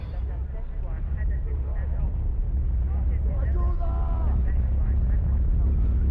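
Helicopter in a video game, a continuous low rotor rumble that sits beneath a voice talking over it for the whole stretch.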